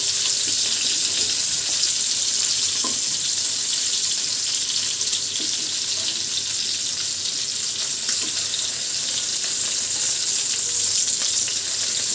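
Fish sizzles in hot oil in a pan, a steady, loud crackling hiss with occasional small pops that continues without pause.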